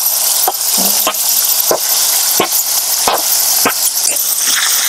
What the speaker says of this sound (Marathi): आपण जे मिरच्याचे क्यूब करून ठेवलेत ना ते टाकून घेऊ